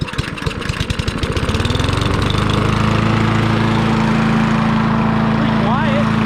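A Yardman push lawn mower engine catches after a pull start, sputtering at first, then settling into a steady close idle; voices speak briefly at the start.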